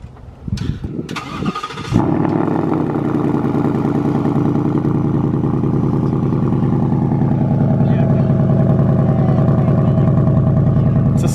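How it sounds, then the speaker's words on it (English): A few clicks and a short burst, then a Toyota Supra engine with stock exhaust starts and settles into a steady, deep idle that carries on loudly. "It's a stock exhaust right now"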